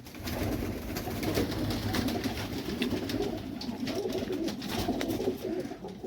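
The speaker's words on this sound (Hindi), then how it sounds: "बहुत बड़ा कबूतर है दोस्तों ये।" Soft, repeated cooing from a large pigeon close by, a low throaty rolling call that continues steadily with no talking.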